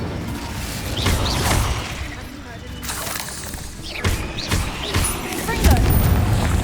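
Incendio fire spells are cast in Hogwarts Legacy amid combat, with repeated whooshing bursts and crackling blasts over a loud, busy game mix.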